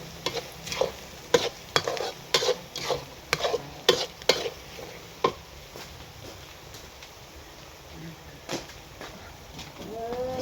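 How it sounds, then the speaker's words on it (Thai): Sugar fries in a pan while it is being caramelized to golden for Thai stir-fried noodles with egg. A soft sizzle runs under repeated sharp scraping and stirring strokes of a utensil against the pan. "เจียวน้ำตาลให้มันเหลือง"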